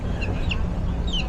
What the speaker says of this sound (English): Oh, watch out, little chickens.